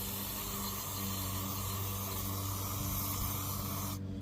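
Cleaner sprayed onto the mass air flow sensor of a Suzuki X-90, one continuous close aerosol hiss lasting about four seconds and then cutting off sharply, no voices.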